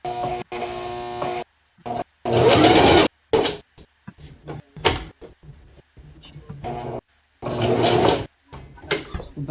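A sewing machine stitches a wig cap for a glueless wig in short, close bursts separated by silent gaps, with backstitching and quick stops, loud and alone.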